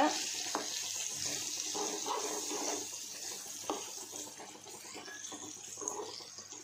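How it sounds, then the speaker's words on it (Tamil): Water is poured into a pan of raw mango mixed with salt, turmeric and chilli powder for thokku, a continuous soft splashing stream at moderate distance with a few small clinks. "நல்லா மிக்ஸ் பண்ண உடனே ஒரு 1/2 கிளாஸ் அளவுக்கு தண்ணி ஊற்றிக்கோங்க."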